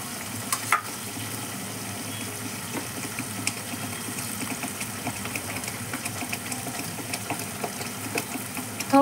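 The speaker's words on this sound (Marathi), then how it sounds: "नंतर कढीपत्ता घेतलाय, याला तेल सुटेपर्यंत आधी परतत राहायचं." Curry leaves sautéing in oil for besan vadi bhaji, a steady soft sizzle and crackle with faint stirring clicks and the odd louder spit, heard alone at close range.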